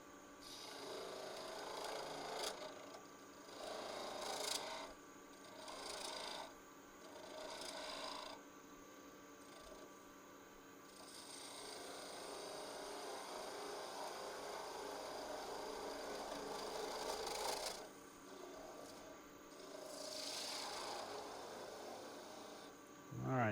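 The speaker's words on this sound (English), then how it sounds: "I'm going to use a" A skew chisel trues up a holly peg spinning on a wood lathe, giving faint intermittent scraping and cutting bursts over a low machine hum, with pauses between passes and no talk.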